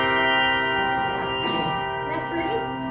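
A handbell rung with a marked lift, struck for an accent and left to keep sounding, its steady shimmering tones sustained across the whole stretch, with a brief brighter burst in the middle.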